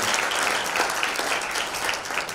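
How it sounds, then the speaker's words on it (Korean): A crowd at a Korean church elders' rally applauds a pastor, a brisk, dense burst of clapping that stays steady and fairly close throughout. "우리 큰 박수를 한번 보내주십시오"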